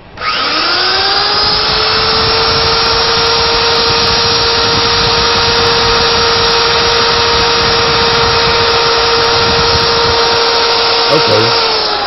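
Spinning wheel machine in a metal workshop spooling up and then running at a steady loud whine with a strong tonal hum and broadband roar, close and continuous throughout.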